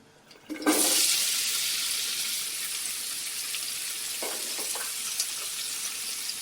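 Onion hits hot oil in a pot and bursts into a loud, hissing sizzle that then settles into a steady, close frying rush, with a few faint clinks partway through.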